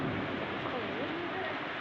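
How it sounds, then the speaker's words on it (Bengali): Rain falling, with distant thunder: a soft, steady wash of rainfall with a low rumble beneath, faint and continuous throughout. "দেখো বৃষ্টি হচ্ছে বৃষ্টি হচ্ছে"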